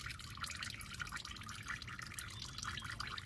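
Engine oil drains out of a 90s Toyota Rav4 oil pan, a steady close trickling and pattering of liquid with dense small drips and no voices.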